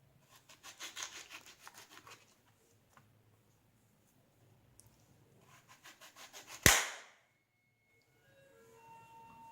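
A knife slices through a white-fleshed dragon fruit in a village setting, giving a run of soft, rhythmic cutting scrapes, a pause, then another burst of quick strokes ending in one sharp, loud crack before faint background hum.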